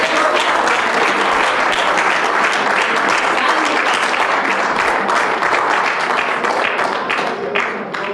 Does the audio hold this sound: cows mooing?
no